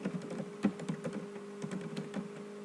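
Typing a database query on a computer keyboard: a rapid, uneven run of light key clicks, close and fairly quiet, with one sharper keystroke early on and a steady electrical hum underneath.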